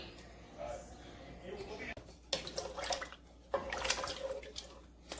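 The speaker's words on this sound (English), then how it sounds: "And add the 2 cups of water." Two cups of water are poured into a soup pot in a home kitchen, splashing and gurgling in a few uneven bursts at close range.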